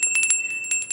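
A notification bell sound effect gives two quick bursts of bright, ringing chimes, loud and clear with no other sound.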